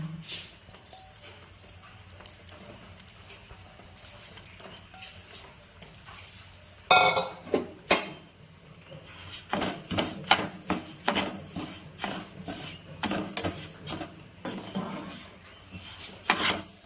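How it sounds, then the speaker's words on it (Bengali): Mung dal dry-roasting in a frying pan, grains rattling and clinking against the metal as a spoon stirs and scrapes, quiet at first and then busier with sharp taps and clatter. "আমি একটা ফ্রাই প্যানের মধ্যে মুগ ডালটাকে ভেজে নেব।"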